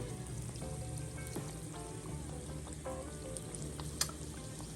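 Breaded chicken wings fry in hot grease on a stovetop at medium heat, giving a steady, dense crackle and sizzle with a few brief pops, close and continuous throughout.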